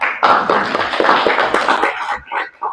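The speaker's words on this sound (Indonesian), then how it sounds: "Tepuk tangan ya." Students in a sociology classroom burst into a round of applause, a dense, steady patter of many hands clapping for about two seconds before tapering off into a few scattered claps.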